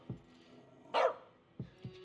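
A dog in As Dusk Falls barks once sharply and loudly near the middle, with a few softer low woofs or yips around it, close by and with no talking.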